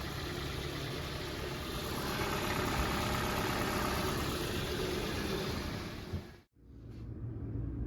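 A 2021 GMC Terrain engine runs steadily at idle after a rev, a continuous mid-low drone with vibration that cuts out abruptly near the end, then resumes more quietly.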